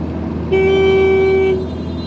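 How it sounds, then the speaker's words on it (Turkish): A single steady car horn blast holds for about a second over low road rumble, loud and close. "Şimdi ben sana bir daha korna çalacağım vurarken."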